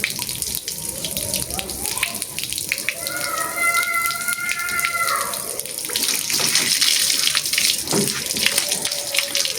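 Water flows steadily out of an Opel Astra F car radiator during removal and cleaning, a continuous splashing gush with faint background sounds.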